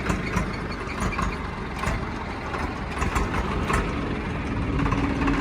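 A 2024 Swaraj 855 tractor engine runs with a steady, loud, dense rumble that continues without a break the whole time.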